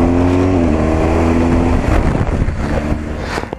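A BMW GS 40th anniversary motorcycle engine accelerates on a road tour, a loud close rumbling drone whose pitch climbs steadily before breaking into rougher, gruffer revving with wind noise.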